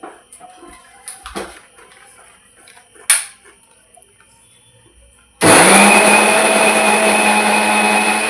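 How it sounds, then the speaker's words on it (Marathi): A mixer grinder blends chopped beetroot for juice. A few clinks and knocks of handling come first, then the motor kicks in abruptly with a loud, steady high-pitched whirring grind that runs to the end. "मध्ये बीटाचं मी ना मिक्सरमध्ये टाकून घेते"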